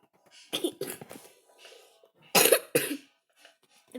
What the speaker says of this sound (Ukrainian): вибачте за кашель, я болію трохи.